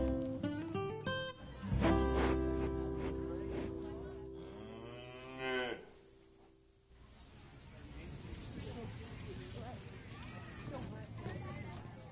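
Beef cattle on a farm in the Peace region low and moo, with several drawn-out calls near the start, then a quieter stretch of herd noise and faint hoof movement while a person talks.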